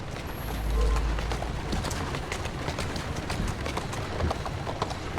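Horse hooves galloping in Assassin's Creed Syndicate, a steady rapid clatter of hoofbeats running throughout over a constant background rumble.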